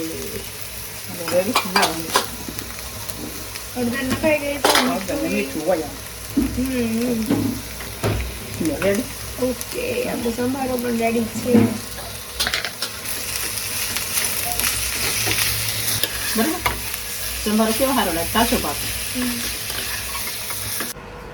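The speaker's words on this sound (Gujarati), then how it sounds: "હવે હળદર મીઠું થોડું નાખી દો" Sambharo vegetable relish being stirred and fried in a pan with turmeric and salt, a steady sizzle with scraping stirs throughout, while someone talks over it for much of the time.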